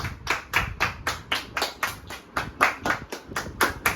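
Steady rhythmic clapping at a home Raksha Bandhan celebration, close and clear at about three claps per second, keeping an even beat throughout with no talking.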